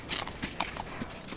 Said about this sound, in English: Pam's horse is coming in.